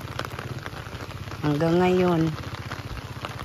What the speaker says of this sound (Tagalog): Kasi kagabi pa kasi itong ulan eh.